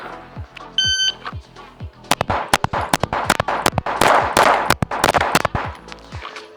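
Ten gunshots fired at a target ten yards away in a timed shooting drill, preceded by a few electronic timer beeps, then a quick, loud, evenly spaced string of sharp reports with close echoes.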